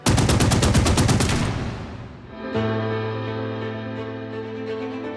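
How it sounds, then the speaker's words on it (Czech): Maxim machine gun fire from the video game Last Train Home: a loud, fast, steady burst of evenly spaced shots lasting about a second and a half, then a fading rumble and a sustained low mechanical hum. "Byly výbuchy, byly zbraně, byla to zábava, byly kulomety, dva maximy tady byly."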